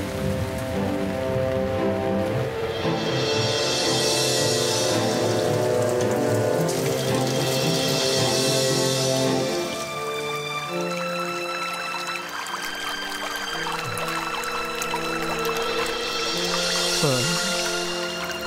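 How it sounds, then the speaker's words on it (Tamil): Steady rain pours down through a wet outdoor scene beside a flooding forest stream, a continuous hiss of drops on surfaces, under layered background music and tones. "நம்ம வேலைய இந்த மழை கெடுத்துரும் போல இருக்கே."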